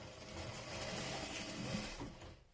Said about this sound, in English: So guys, I'm going to sew it around.